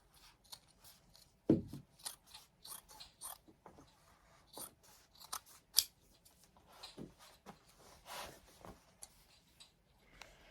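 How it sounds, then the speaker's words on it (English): Scissors snipping up the side of a leg of vintage jeans, a series of crisp, close cuts and fabric rustles in an irregular rhythm, fairly quiet, with no voices. "I cut up the side of the leg"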